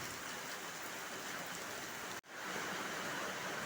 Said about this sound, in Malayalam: മഴ ഇങ്ങനെ തുടർച്ചയായി പെയ്യുന്നത് കൊണ്ട് ഇവിടെ അന്തരീക്ഷമൊക്കെ നന്നായി തണുത്തിട്ടുണ്ട്.